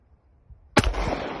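A single sharp Glock pistol shot at a 20-yard target outdoors, one loud crack with a short ringing tail after a quiet lead-in.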